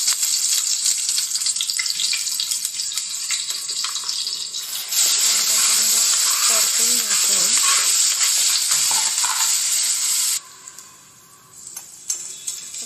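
Onion frying in a pan for a spicy Maharashtrian karadai (safflower greens) bhaji, a steady close hiss of sizzling oil with stirring scrapes and a few ticks, loud throughout before easing near the end.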